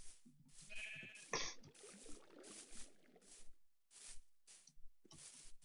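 Blocky sheep bleating in Minecraft, a string of short, quiet bleats with gaps of near silence between them and no voices over them.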